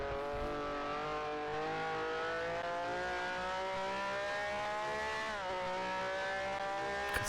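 A Ferrari race car engine in a sim racing game drones continuously at high revs, its pitch holding steady then shifting briefly as it changes gear, with no talking.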